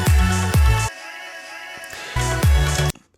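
A held vocal part processed with VPS delay, heard between loud, punchy drum-like hits at the start and end, with the sustained processed tone ringing and trailing off in the gap.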